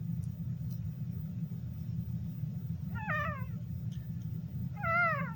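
Two cats meow in separate short, wavering calls, each fairly clear, over a steady low rumble like an engine or passing traffic in the background.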